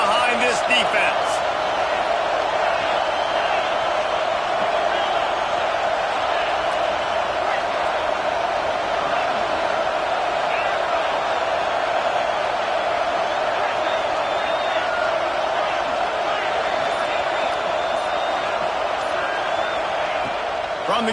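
Stadium crowd at a Texas vs Alabama football game during a third-down defensive stand, a sustained loud roar of cheering that holds steady throughout while a commentator talks over it.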